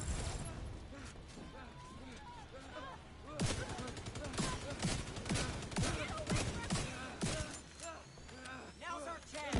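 Bursts of gunfire from the Division 2 video game, with repeated rapid volleys and automatic fire that start after a quieter opening and continue loud and dense alongside other combat noise.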